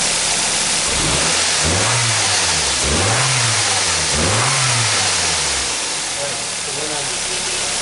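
A truck engine revs loud and close in three short bursts, dropping back between each, then settles into a rough idle.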